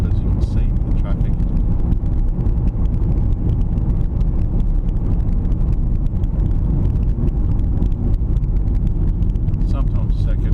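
Car driving on a road in third gear around Loch Sport, with steady low engine and road noise throughout at a constant loud level.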